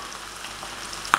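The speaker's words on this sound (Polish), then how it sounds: "I podsmażamy z drugiej strony na równie piękny, złocisty kolor i smażymy kolejne." Zucchini fritters fry in a pan with a steady soft sizzle and hiss, and a brief sharper pop near the end.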